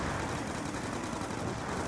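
Continuous rapid gunfire from a Black Ops 2 Zombies match, a dense unbroken automatic stream filling the short moment at steady loudness.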